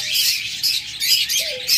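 A dense chorus of high, shrill chirps and tweets rises from a farm holding hundreds of pairs of lovebirds and budgerigars, continuous and bright with a few clearer calls standing out.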